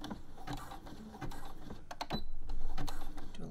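A sewing machine stitches elastic onto knickers, its needle whirring in short uneven runs with pauses and small mechanical clicks, close and moderately loud.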